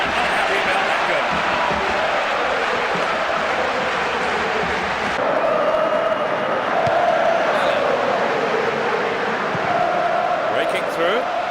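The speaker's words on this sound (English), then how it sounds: "most of the crowd are not happy about that goal" A large football stadium crowd in PES 6 murmurs and jeers in a continuous, dense roar, with swelling whistles and groans partway through, all under the voice of a match commentator.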